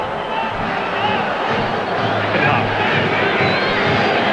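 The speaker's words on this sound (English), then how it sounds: "they have a sellout crowd cheering them on" Sellout stadium crowd at a Great Britain versus Australia rugby league Ashes match at the JJB Stadium in Wigan, roaring loudly and continuously like a dense wash of cheering voices.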